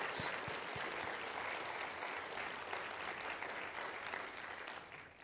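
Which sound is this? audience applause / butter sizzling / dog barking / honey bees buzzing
audience applause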